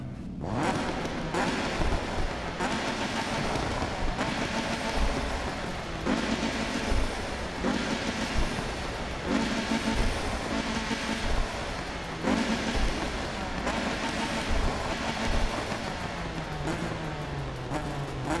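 A tuned Mazda Miata with a boosted four-cylinder engine roars in Need for Speed 2015, loud and sustained with rhythmic surges and dips as it revs through gears, with no talk over it.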